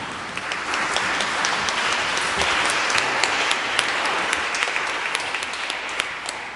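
A church congregation at a morning Mass claps for the choir singers and musician, a sustained crowd applause of many hands with crisp individual claps standing out, steady and fairly loud for the whole stretch.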